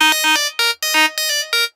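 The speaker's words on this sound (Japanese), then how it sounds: "このフェーズを入れることによって音色に対して輝きを与えられると" A Massive software synth patch plays a bright, chiming electronic phrase with a heavily exaggerated phaser sweep, short stabbing notes in a quick uneven rhythm with brief gaps, loud and alone.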